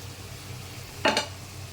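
Bhola fish hits hot oil and fried masala in a pan, giving one short loud sizzling burst over a low steady background hum.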